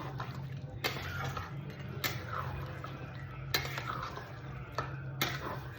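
Mutton stir-fried in a pan for kosha, with a utensil scraping and knocking against the metal every second or so over a low sizzling bed, close and fairly quiet.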